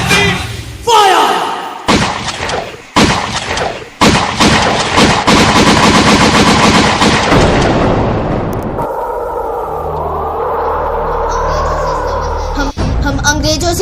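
Gunfire in a staged play at a Gandhi Jayanti celebration: several loud, sharp shots and booms in quick succession, followed by sustained loud amplified noise and a voice over it.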